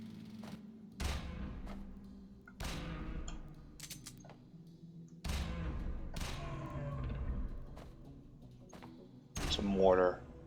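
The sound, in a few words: mortar fire in Jupiter Hell video game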